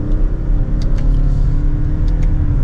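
A 2025 Toyota Crown Signia Limited with a CVT, driven in sport mode and pulling from second gear on the paddle shifters, gives a loud, steady engine drone and road rumble inside the cabin as it accelerates, with no voices.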